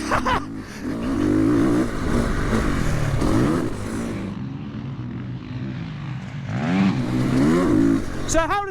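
A Triumph TF450-RC motocross motorcycle engine revs hard while being ridden, loud and close, rising and falling through throttle bursts, with a brief lull midway and a sharp rev at the end.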